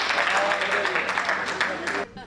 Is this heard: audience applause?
yes